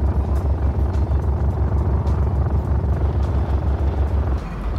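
A car engine in the Scrap Mechanic video game drones steadily through a drift, a low pulsing rumble with regular throbbing beats, loud and continuous with no voices.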